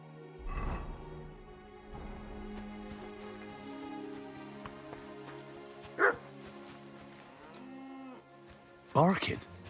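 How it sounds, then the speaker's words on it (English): A dog barks in the medieval open-world game Kingdom Come: Deliverance 2, with a couple of sharp barks standing out over lowing cattle and a layered ambient background. "Barking."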